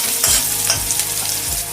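Chopped onion sizzles steadily in hot oil, a continuous close frying hiss with a few soft stirring scrapes recurring about every half second, no voices.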